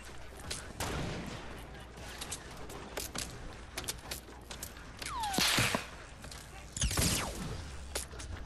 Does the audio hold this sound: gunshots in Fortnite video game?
yes